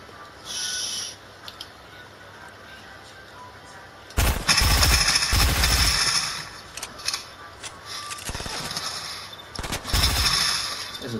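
Bursts of gunfire in the video game Fortnite, a loud dense volley in the middle followed by scattered shots and another short burst near the end, with quieter stretches between.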